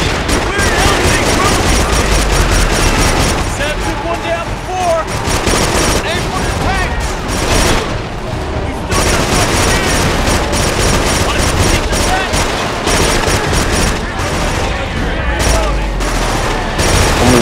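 Turret machine gun in the Killzone 2 war game firing in dense, continuous bursts with booming explosions mixed in, loud throughout the whole stretch.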